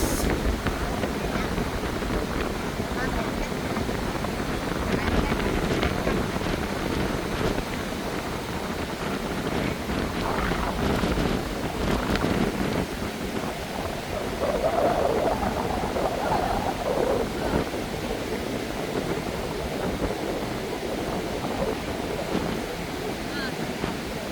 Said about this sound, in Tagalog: Lumakas yung hangin.